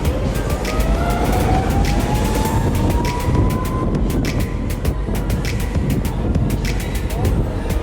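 An Exway Flex electric skateboard at full throttle in mode 3 gives a loud, steady rising motor whine over heavy rumbling wheel and wind noise, with rapid clicking ticks from the deck rolling over pavement seams.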